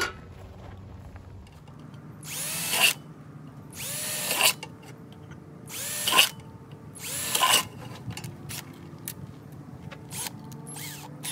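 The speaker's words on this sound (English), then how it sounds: "Let's put a 3/4 inch hole in all four corners first" A power drill bores 3/4 inch holes into the metal body of a hobo stove, making four loud whirring bursts roughly every one and a half seconds, each rising in pitch, then a few shorter brief spins, close by with no talk.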